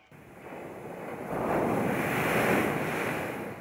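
Ocean surf washes onto a coastline once struck by a tsunami, a steady broadband roar that builds and swells louder midway, with wind buffeting the microphone and no voices.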